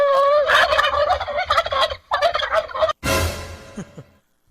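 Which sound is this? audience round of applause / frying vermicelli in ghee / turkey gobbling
turkey gobbling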